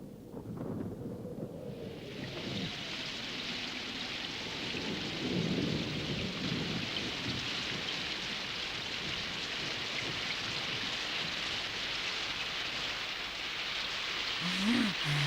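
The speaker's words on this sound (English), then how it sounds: "It looks like rain again." Steady heavy rain hissing continuously, with deep rolling thunder rumbling underneath in the middle and a low rumble rising again near the end, in a Moomin cartoon.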